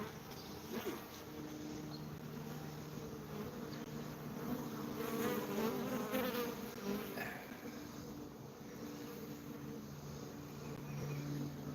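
Bees swarm around a large hive being removed and evicted, a dense steady buzzing of many insects that stays loud and close throughout with no talk.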